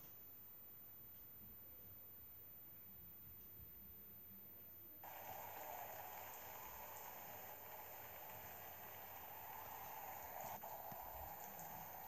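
Rain in the Roblox game Natural Disaster Survival starts as a faint patter, then swells midway into a steady, hissing downpour that stays quiet overall.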